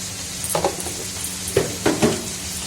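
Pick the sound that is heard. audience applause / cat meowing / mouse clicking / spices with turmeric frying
spices with turmeric frying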